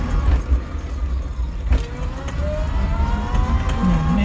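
An electric vehicle with a 1200W 48V controller climbing a hill, its motor whine rising steadily in pitch under road and wind rumble, with a brief knock partway through and no talking.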